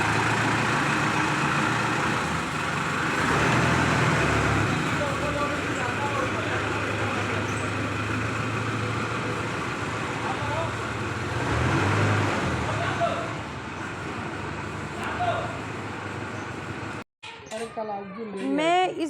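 Car engines and street traffic at night in a residential lane, a loud continuous rumble of passing vehicles that fades toward the end, followed by someone speaking.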